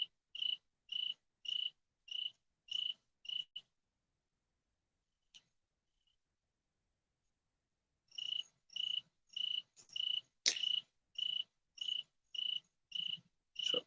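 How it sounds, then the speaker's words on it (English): Crickets chirp at night beside an outdoor fire pit: a steady run of evenly spaced, bright pulses, then a quiet pause of several seconds, then the same rhythmic chirping resumes, close and clear. "Listening to the crickets, the fire pit popping, and my voice interacting with the chat."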